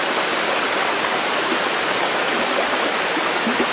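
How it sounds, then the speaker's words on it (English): Stream water rushes through forest near Akan National Park in Hokkaido, a dense, even, continuous flow that sounds loud and close, with no talking. "We can see the water flowing through the forest,"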